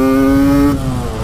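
A 125cc two-stroke street motorcycle engine revs loud and close, a buzzing high-pitched whine held steady before the revs drop off, with no talk.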